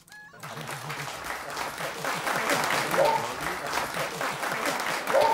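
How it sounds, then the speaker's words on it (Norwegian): A Norwegian audience applauds warmly and steadily for several seconds, a dense even clatter of clapping that builds slightly toward the end. "her får vi applaus og latter"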